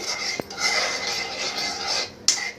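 Semolina and milk stirred in a pot, a close scraping swirl with a couple of sharp metallic clinks of utensil against the pot, without any talk.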